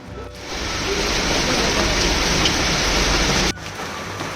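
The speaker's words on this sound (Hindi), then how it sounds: "बहुत तेज बारिश।" Heavy rain pours down in a dense, steady roar, loud and close, then cuts off abruptly near the end, leaving a softer background hiss.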